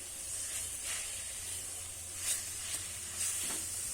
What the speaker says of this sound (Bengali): এবারে ভালো করে কিন্তু মিশিয়ে আমি নাড়ুটা পাক দিয়ে নেবো